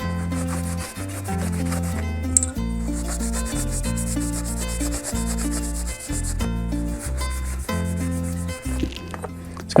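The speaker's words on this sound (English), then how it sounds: "It's gonna take some scrubbing to get this off." Steady back-and-forth scrubbing cleans a spring-assisted auto knife, a close, continuous rasping rub over a low mechanical hum, with no one speaking.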